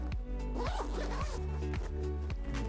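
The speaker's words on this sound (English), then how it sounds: "zip it." A zipper being pulled along a camera backpack in several quick, close strokes, a scratchy rasping repeated in bursts over a steady low hum.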